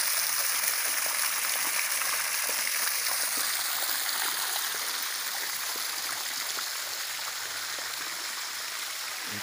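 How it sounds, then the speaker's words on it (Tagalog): Water flows and splashes continuously from a fountain at Lucina's Resort in Sagay, Camiguin, Philippines, a steady bright hiss of falling water, close and fairly loud, with no talking. "Yan may ano sila dito, may fountain."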